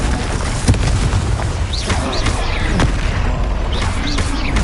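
A Confringo blasting spell in Hogwarts Legacy sets off loud booming explosions over a constant rumbling battle din, with whooshing spell sounds sweeping through.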